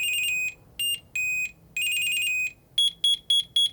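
A small Pebble Clip Bluetooth tracker tag beeps loudly in a rhythmic pattern, a few longer tones followed by four quick, higher chirps, with no other sound.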